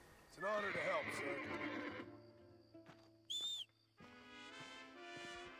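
A horse in Red Dead Redemption whinnies loudly near the start with a rising-falling neigh, followed by quieter game sound effects, a short high chime and background music.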